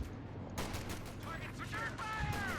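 Machine gun fire from a Panther tank in the strategy game Company of Heroes 2, a fast run of rattling shots at moderate level, with a commentator's voice faintly over it.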